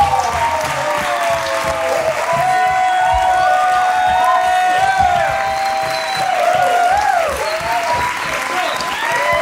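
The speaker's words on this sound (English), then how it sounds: "Y'all better give them the biggest applause ever" A crowd at a motherhood panel discussion claps loudly and steadily, with cheers and whoops rising over the applause throughout.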